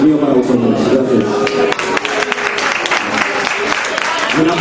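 An audience at a live concert in a small music hall applauds with steady, dense clapping, while a voice speaks over the crowd at times.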